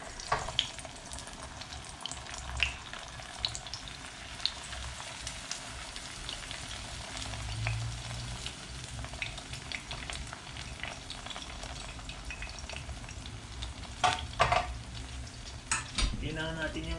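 Egg for a Filipino eggplant omelette with ground pork sizzles and fries steadily in a pan, a continuous crackle with occasional utensil clicks and scrapes, fairly quiet and close.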